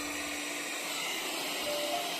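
A Xiaomi Mi Vacuum Mini with its filter clogged by flour, giving a steady, fairly quiet high-pitched whoosh of faint airflow that holds unchanged from start to finish, alone with no talking.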